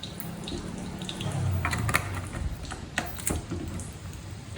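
Tap water runs into a container to dilute strong fish sauce for Vietnamese spring rolls. A steady, hissing pour sounds close by, with faint clinks and small splashes and no talking.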